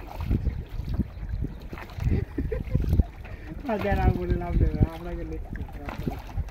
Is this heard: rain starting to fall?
no